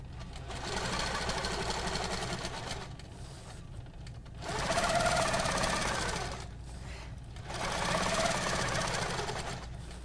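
A sewing machine on a frame with a ruler base stitches in three bursts of steady rapid clatter, pausing briefly between runs over a low hum.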